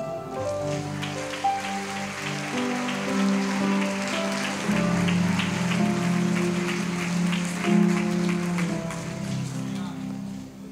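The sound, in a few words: church congregation applauding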